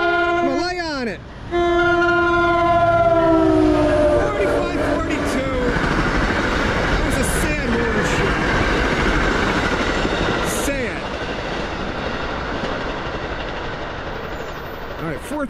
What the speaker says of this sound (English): Got a nice shiny locomotive here. Give me a horn show now.